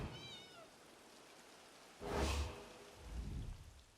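A pet cat named Winks meows in The Elder Scrolls Online, a few thin wavering cries early on, followed by soft broadband whooshes of ambient noise.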